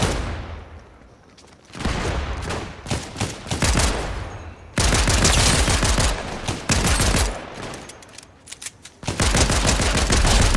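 Rapid automatic gunfire from the Fortnite video game, with long loud sustained bursts separated by short pauses and some sharper single shots, close and dominant throughout.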